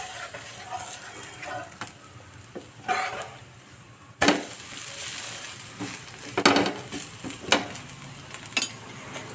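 Adai dosa batter cooks on a hot pan with a soft, steady sizzle, broken by sharp scraping and clinks of a spatula against the pan as the dosa is flipped, heard up close without speech.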